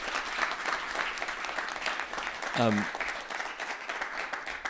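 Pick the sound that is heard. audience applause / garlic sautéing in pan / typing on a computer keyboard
audience applause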